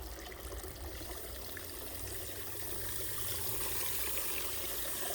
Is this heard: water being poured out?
yes